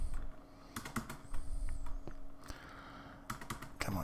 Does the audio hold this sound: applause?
no